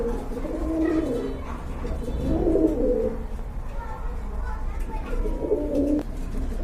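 Pigeons for sale, including high-flyer and teddy pigeons, coo in a repeating low throaty rhythm, three distinct bouts close to the microphone over a steady murmur of other birds.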